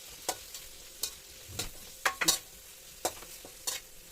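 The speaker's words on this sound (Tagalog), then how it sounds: "Ayan, ilagay ko na habang piniprito natin. Ayan mga guys, haluin ko na." Kikiam pieces frying in a pan for pancit bihon, stirred with a utensil: soft, regular scraping knocks about every half second over a quiet sizzle, fairly faint and without talk.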